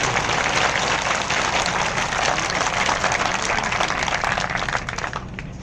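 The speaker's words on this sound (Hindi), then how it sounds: "अभिनंदन की तालियां उनके लिए बजना चाहिए आप सभी की" Sustained applause from a crowd at a Hindu gathering, dense and steady clapping that fills the whole stretch, easing slightly near the end.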